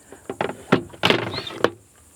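On a Stars and Stripes Stuart 27 boat, a console door is worked back into place with a handful of close hollow thunks and knocks, irregular bumps spread over two seconds, with no talking.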